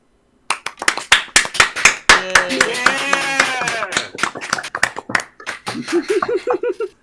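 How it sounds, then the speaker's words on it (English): Online attendees unmute their mics and clap after a talk on game perception, with scattered, uneven claps from several people, voices cheering and talking over them and some laughter. "This is the part where everybody unmutes their mics and claps"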